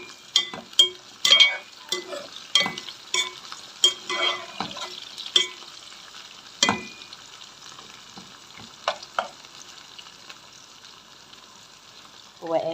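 Koshari lentils being stirred in a pot, a busy crackle of sizzling and frying with sharp scraping and clinking strokes that come in quick bursts and then thin out, no talk.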